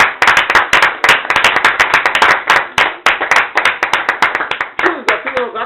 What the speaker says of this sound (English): Please a round of applause for Stephen.